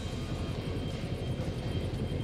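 A helicopter flies in the game House of Ashes, its loud, steady rotor and engine drone filling the whole stretch without a break.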